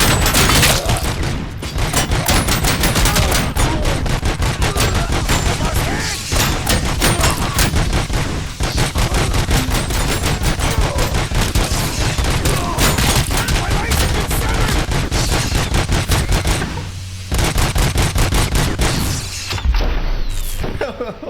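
Sustained loud gunfire in a video game, a nearly continuous stream of rapid shots and booms with a few short gaps, and some talking mixed in.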